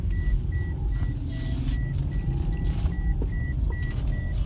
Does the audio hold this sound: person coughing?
no